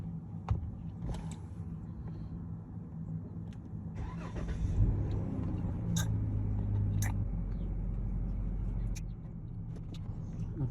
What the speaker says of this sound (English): I think you need to start the car with this one.